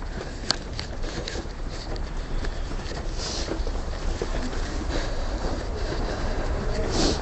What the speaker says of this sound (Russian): Я в метро иду.